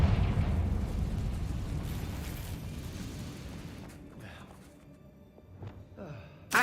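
The Confringo blasting curse explodes in Hogwarts Legacy with a heavy rumbling boom that decays over several seconds into quieter crackles and small pops.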